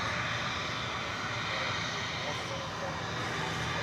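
American Airlines jet on arrival at DFW Airport, inbound from Miami: a steady broadband engine roar holding level throughout, fairly loud, with voices talking underneath.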